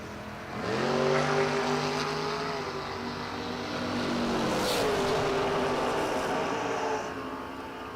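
Two drag racing cars, a 1964 Chevy II and an F-body Chevrolet Camaro, launch and roar down the strip, engines climbing through gears loud and close, then the note drops as they pass and recede.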